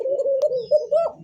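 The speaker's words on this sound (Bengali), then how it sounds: "আরো একটা ম্যাকপাই কবুতর পটার দেখছেন, একদমই নতুন একটা পটার জোড়া" Magpie pigeons, a new pair offered for sale, give a steady, close cooing that runs unbroken through the moment, rising slightly near the end.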